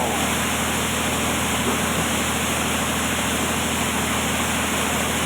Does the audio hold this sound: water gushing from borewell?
yes